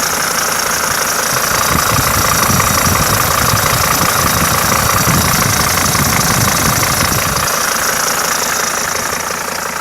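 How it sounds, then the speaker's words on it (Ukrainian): A Mercedes E290 engine idles loudly and close up, a steady even rumble with a faint ticking knock, running without a break. "Мотор тут працює рівненько."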